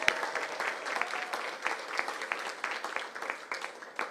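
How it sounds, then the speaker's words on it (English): Audience applause for artists at an outdoor public event in Washington, DC, a steady patter of many hands clapping at moderate distance for several seconds, with faint voices underneath. "Give them a big round of applause."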